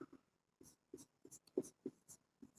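Marker or chalk scratching on a board in a lesson on linear differential equations, a series of short, distinct strokes in an irregular rhythm, close and fairly quiet, with no talking.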